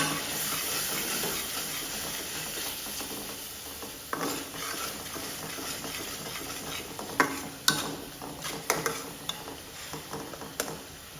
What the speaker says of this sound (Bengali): জালটা কমিয়ে আমি মশলাটাকে কষিয়ে নিচ্ছি